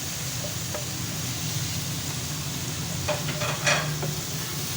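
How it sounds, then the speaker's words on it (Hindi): Beef mince sizzles in a hot karahi with a constant frying hiss, while a few scrapes and clinks of stirring break through near the end. "तो ये मैं अब कीमा जो है सारा वो मैं इसमें डाल देती हूँ।"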